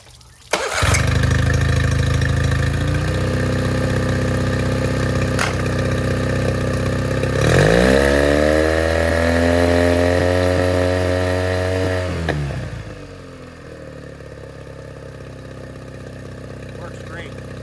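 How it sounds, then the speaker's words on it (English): A Yamaha small engine fitted with a cheap Amazon aftermarket carburetor starts right up and runs steadily at a loud, close buzz. It revs higher for several seconds, then settles back to a quieter idle. "Amazon carb works great. Watch, starts right up every time."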